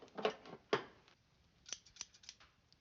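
Several sharp scissor snips, a quick pair early on and then a scattered run of lighter cuts, close up with no talking.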